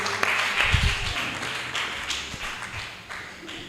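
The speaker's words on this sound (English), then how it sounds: "Please keep clapping. Clap, clap, clap." An audience at an alumni association's annual general meeting claps scattered and fairly faint, the applause thinning as it goes on, with a little talk under it.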